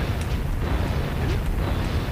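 Fireballs fire repeatedly in the Jak and Daxter video game, a dense, rumbling low whoosh that rolls on continuously with faint bursts layered on top.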